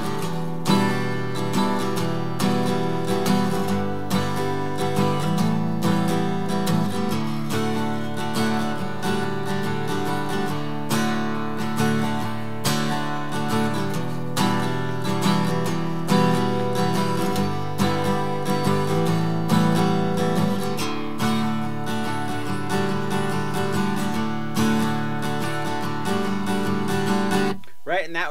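Acoustic guitar tuned to drop D plays the chorus of a song, strummed one-finger chords in a steady rhythm for nearly half a minute, close and clear with no talking over it.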